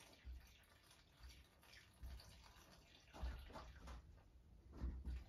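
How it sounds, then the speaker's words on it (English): Leftover water from a large car radiator is tipped into a bag, giving soft, faint splashes and trickles in several brief bursts at close range. "what I'm going to do is tip the last bit of the water in the radiator into the bag by carefully lifting it"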